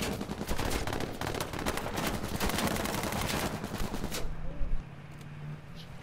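Automatic gunfire in the video game H1Z1: Battle Royale, dense rapid volleys of shots for about four seconds, then abrupt quiet with faint game ambience; a voice speaks briefly under the shooting.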